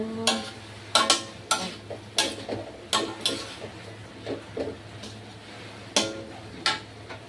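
A utensil stirs vegetables in a pan, giving a run of sharp scraping clicks at irregular intervals over a low, steady hum, fairly quiet and close.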